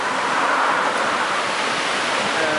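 A waterfall in Ogden, Utah, heard as a loud, steady rush of falling water that fills the whole clip with constant broadband noise and no talk.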